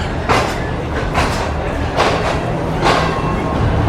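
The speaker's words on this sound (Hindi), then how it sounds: "तो ट्रेन जो है फाइनल रोडी जंक्शन पर पहुंच चुकी है।" Shalimar Express train pulling into Rohri Junction, a loud steady rumble of rolling carriages with rhythmic clacking bursts from the wheels passing over rail joints, close and continuous.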